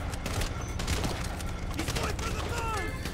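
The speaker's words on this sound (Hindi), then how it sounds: "अभी भी गोली चल रही है।" Rapid bursts of gunfire in GTA V crackle through a chaotic firefight, sharp repeated shots layered over a dense game soundscape, with a voice talking over the action.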